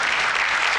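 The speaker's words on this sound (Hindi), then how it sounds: "तालियां!" Studio audience applause in a Hindi television comedy serial, a brief, loud, dense burst of clapping that fills the moment without any voices.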